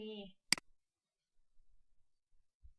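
A single sharp mouse click in a quiet room, brief and distinct, while someone works in mapping software; soft faint rustles follow and a short voice fragment precedes it.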